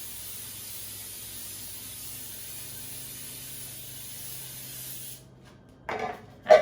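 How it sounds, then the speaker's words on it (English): Cooking spray is applied to a baking sheet: a soft, steady hiss runs for several seconds, cuts off, then two short, louder bursts follow near the end. "don't forget to spray your baking sheet"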